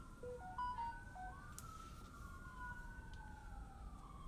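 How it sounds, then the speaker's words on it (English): Faint, distant ambulance sirens wail and sweep up and down over a low rumbling background in a neighborhood, with no one speaking. "That's ambulances."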